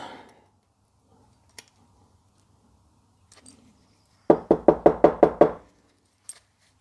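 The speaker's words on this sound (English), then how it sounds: "So I'm just going to close these down a bit by knocking them." Spark plugs for a Toyota MR2 Mk2 SW20 with a 3SGE engine are tapped to close the gap. A quick run of about seven sharp metallic knocks comes close together, with a few isolated clicks before and after and no talk.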